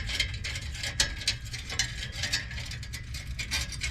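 A ratchet wrench tightens a worn clamp on the exhaust heat shield of a 2013 Ford F150, giving a steady rapid clicking at close range over a low background rumble, with no talking.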